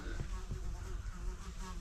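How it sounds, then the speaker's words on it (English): A bee buzzes steadily indoors in a workshop where wood is being sanded and varnished, a close, continuous insect drone with no talk over it. "I think there's a bee in here."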